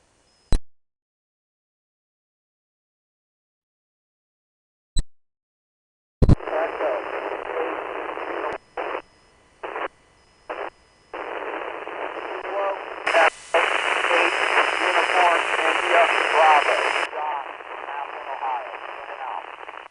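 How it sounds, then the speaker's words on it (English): A faint amateur radio station comes through on an SDR receiver as a band of hiss and static that cuts in and out in bursts, with a broken, barely audible voice inside it after a few isolated clicks. "Now there's a station very, very faint in the background that said in and out."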